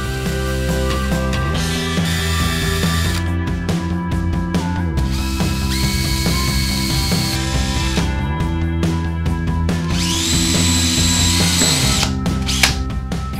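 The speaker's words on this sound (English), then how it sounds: "Drill 4 holes with a 1/4 inch bit." Power drill boring four holes with a 1/4 inch bit into a rail base, a loud continuous whine that rises and drops in pitch as the bit engages and lets off, with brief pauses between holes.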